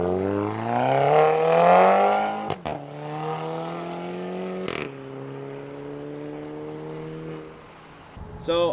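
A Volkswagen MK6 GTI with an aftermarket downpipe, its engine revving loudly up close, then settling to a steady, rumbling idle with a couple of sharp pops and thumps.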